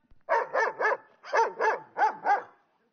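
Doberman dogs bark sharply and close by, three quick barks, a short pause, then four more in a steady rhythm before falling silent.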